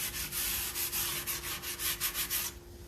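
Sandpaper rubs by hand along painted wood edges of a porch planter, a rapid run of rough back-and-forth strokes, close and fairly loud, ending abruptly.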